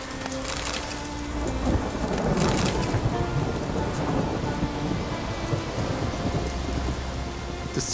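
A steady, dense downpour in The Witcher 3, with heavy rain hissing across the whole scene and low thunder rumbling beneath it, loud and continuous, with no talking.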